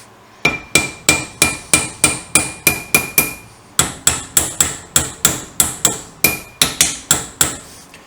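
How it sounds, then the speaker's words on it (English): A hammer taps metal parts into place for a custom highboy build: about two dozen sharp, ringing metallic strikes come in a steady, even rhythm, close and loud, with a brief pause midway and no talking. "tap it round the last bit because I can't get the spanner in"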